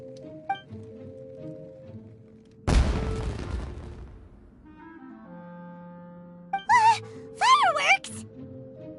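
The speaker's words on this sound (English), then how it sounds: "It sounded like fireworks." In Genshin Impact, a sudden firework burst booms with a crackling tail, set against soft game music. Whistling, sparkling pops follow a few seconds later, with nobody talking over them.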